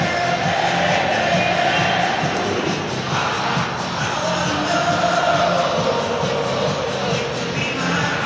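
A capacity crowd fills Hong Kong Stadium at a rugby sevens bowl semi-final, its broad, steady roar swelling and easing without a break and loud throughout.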